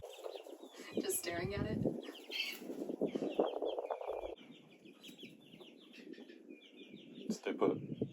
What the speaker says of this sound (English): your little Bantam just tried to follow you